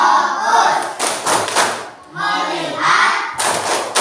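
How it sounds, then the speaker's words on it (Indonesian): A classroom of students performs the rhythmic focus clap (tepuk fokus) together, loud bursts of group clapping and thumps in a patterned rhythm, with voices chanting between the beats. "Kita tepuk fokus ya. 1, 2, 3. Tepuk fokus."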